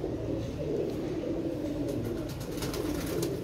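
Pigeons coo softly in a low, continuous murmur, faint and steady with no talk over it.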